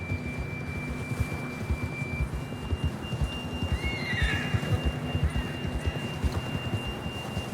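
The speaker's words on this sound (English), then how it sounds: "John was riding that horse when we left Blackwater." A horse whinnies briefly midway through in Red Dead Redemption 2, over a busy rumbling background of hooves and game ambience with a steady high tone.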